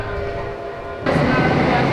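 A Berlin U-Bahn metro train rumbles loudly and close at hand, then suddenly swells into a louder roar and screech partway through.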